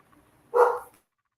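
A dog gives a single short bark, close by and alone against an otherwise quiet room.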